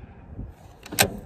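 A rifle bullet strikes a distant target downrange, heard as one faint, sharp impact crack over a low outdoor rumble.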